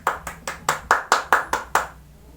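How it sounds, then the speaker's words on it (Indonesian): A small class claps for a student who answered correctly, giving about nine quick, evenly spaced handclaps that stop abruptly, each one sharp and close in a quiet room during a microteaching lesson. "Ayo berikan tepuk tangan untuk Robi."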